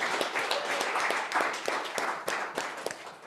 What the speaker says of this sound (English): big round of applause for Best of Salt Lake nominees